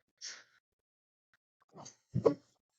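A short breathy intake, a pause, then a single sneeze bursting out close by in an otherwise quiet room.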